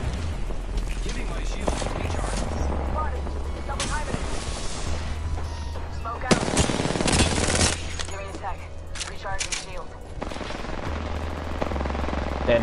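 Rapid automatic gunfire from the Apex Legends video game, with dense bursts and sustained fusillades running through most of the clip, loud and close, with voices talking over the shooting.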